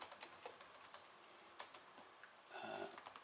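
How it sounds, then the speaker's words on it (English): Quick, uneven keystrokes on a computer keyboard, clicking alone and fairly faint, with a slightly denser burst of typing near the end. "I can type."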